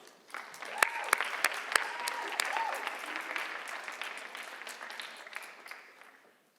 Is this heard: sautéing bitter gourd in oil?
no